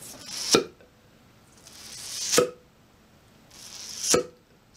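A mouth imitating a tennis ball being struck, made by a lip tucked under the upper teeth and flicked: three sharp, crisp pops spaced about two seconds apart, each with a brief airy tail, alone in a quiet room.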